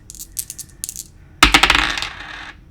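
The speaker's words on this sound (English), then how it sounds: "And I got my dice." Dice rattle briefly twice in a hand, then clatter sharply onto a hard surface with a burst of quick bouncing clicks that die away, close and clear, no voices.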